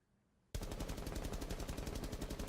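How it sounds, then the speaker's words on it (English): A Commando rifle empties its whole 30-round magazine on full auto in Rainbow Six Siege, starting abruptly after near silence and rattling on as a fast, even, loud stream of shots. "So here we're going to start with the Commando with its mag dump, firing all 30 rounds fluidly."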